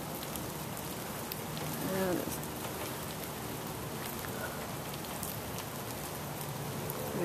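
Steady rain patters on surfaces outdoors, a constant hiss of drops close by with a faint tonal sound briefly rising midway.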